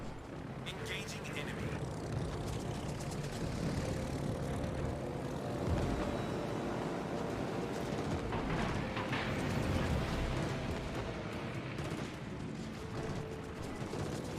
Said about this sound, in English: I'm getting chewed up by the planes